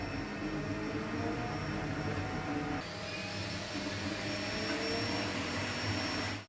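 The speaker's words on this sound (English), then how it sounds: "This printer is loud." A loud, steady whirring drone from the 18-watt auxiliary fan of a K1 Max 3D printer fills the space, broadband and constant, with a slight shift in pitch midway before it cuts off.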